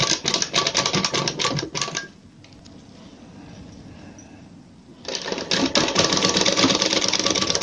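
A domestic sewing machine stitches a dori design seam into fabric, running in loud steady mechanical bursts at the start and end with a quieter pause in between.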